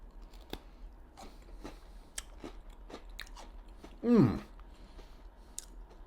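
A 1961 Betty Crocker peanut butter fingers cookie being eaten, heard as close soft clicks and mouth sounds, then one loud crunching bite with chewing, quiet with no talk.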